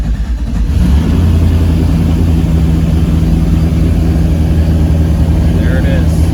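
A turbocharged LS-swapped Mazda Miata engine fires up and settles into a loud, steady, throaty idle that rumbles low and continuous close by.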